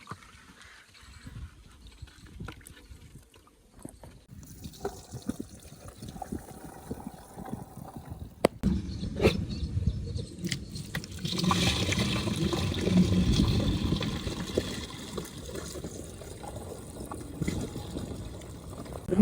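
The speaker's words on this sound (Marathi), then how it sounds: "मित्रांनो आता आपला पंप भरलाय फुल." Water pouring into a pump sprayer tank mixed with 2,4-D herbicide: quiet trickles and clicks at first, then a steadier, louder rushing fill in the second half.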